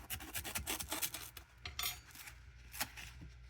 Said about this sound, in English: So I'm going to cut a piece off the side like this.